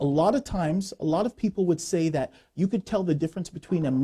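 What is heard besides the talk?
None of the usual background noises is heard.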